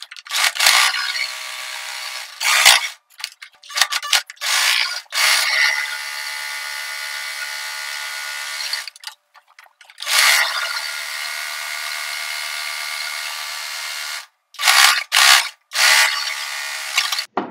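A sewing machine stitches the folded hem of a cotton kurti in short, loud mechanical bursts separated by brief pauses, with no talking.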